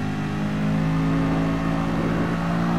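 A Lamborghini race car engine in Gran Turismo Sport drones loud and steady, a sustained throaty rev holding one pitch without a break.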